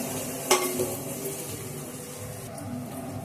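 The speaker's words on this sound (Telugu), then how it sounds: "దీంట్లోనే 1 స్పూన్ అల్లం పేస్ట్, ఈ అల్లం పేస్ట్ పచ్చివాసన పోయిందాక వేపాలి" Ginger paste fries in a pan with a soft, steady sizzle, broken by a sharp clink of a spoon against the pan near the start and light stirring scrapes after it.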